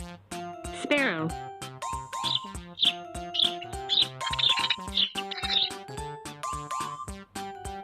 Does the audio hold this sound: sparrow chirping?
yes